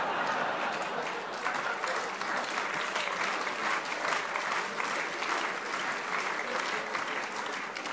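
Audience applause following a joke, a steady wash of many hands clapping that holds at an even level throughout and sounds somewhat distant.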